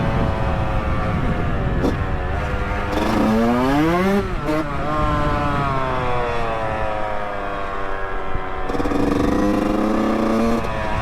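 A Yamaha YZ125 two-stroke dirt bike revs and rides along a relaxed route, its buzzing engine rising and falling through gear changes, loud and close for the whole stretch.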